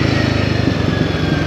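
Royal Enfield Guerrilla 450 motorcycle engine running at low revs, a loud, close, evenly pulsing thump with no talk, heard while riding in town.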